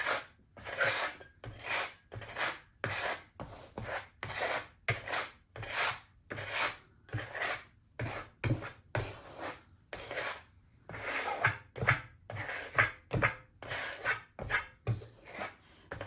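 A trowel spreads paint across a canvas in a rapid series of rasping scrapes, close and fairly quiet, each stroke separated by brief pauses.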